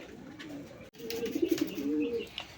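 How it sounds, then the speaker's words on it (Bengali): Native Golla pigeons, a local breed about the size of a mini king, coo in low repeated throaty notes, close and clear, with a brief pause early on and no talking. "কী কবুতর বলেন তো দেখি? এটা কিং না, কিং না, এটা আমাদের দেশীয় গোল্লা।"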